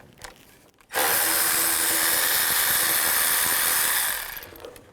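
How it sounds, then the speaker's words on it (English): A power drill with a 5mm hex bit backs bolts out of the ignition coil cover on a 2007-12 BMW X3, a loud steady whirr running for about three seconds after a brief quiet start, then winding down. "Now I'm going to use a 5mm hex bit and take these 4 bolts out."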